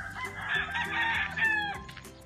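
A rooster on a hacienda crows loudly and close, one drawn-out call, with chickens clucking around it and no talking.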